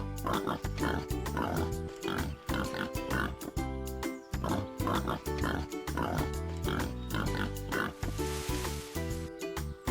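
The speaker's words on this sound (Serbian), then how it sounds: "Divlja svinja voli da njuška po zemlji i traži hranu." A wild boar grunting and snuffling in a forest setting, rhythmic bursts of close, loud oinking grunts repeating in quick succession.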